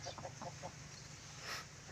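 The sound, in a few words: native chicken hen with her chicks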